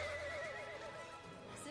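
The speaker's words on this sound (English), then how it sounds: "Are those dancing horses?" A horse neighs in a Barbie film at a dancing horse festival: one long, wavering whinny that rises and falls, clear and close, with faint hoof clatter beneath.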